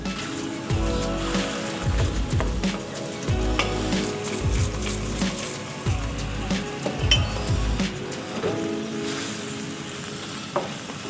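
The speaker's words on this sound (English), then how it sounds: "Simple, straightforward stir fry." Broccoli beef stir fry sizzles steadily in a hot pan after a splash of beef stock, with repeated bursts of stirring and scraping and light clinks of a utensil against the pan, close and loud with no talk.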